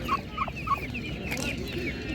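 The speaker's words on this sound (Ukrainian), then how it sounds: "Чорні гарні були у нього ендики." Black turkeys gobbling at an animal market: a few short, bubbling gobbles near the start, then quieter cackling fowl calls amid a murmur of market background.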